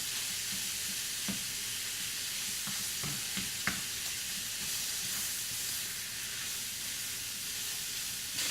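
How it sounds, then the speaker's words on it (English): Venison chili sizzles steadily in a pot as it is stirred, a constant close frying hiss broken by occasional soft scrapes and clicks of the spoon. "Just listen to that sizzle."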